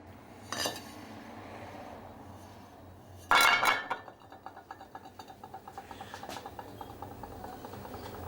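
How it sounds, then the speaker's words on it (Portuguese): Dishes and cutlery clinking in a kitchen, with a brief clatter early on, a louder burst of clanking, then a steady run of light rhythmic clinks, moderately near with no talk. "Mulher, vamos à louça!"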